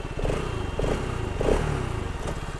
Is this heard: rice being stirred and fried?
no